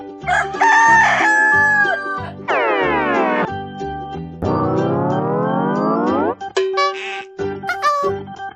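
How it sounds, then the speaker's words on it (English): A rooster crows several times on a farm, loud and close, with long rising-and-falling calls and a few shorter clucks and other farm sounds between them. "Rooster."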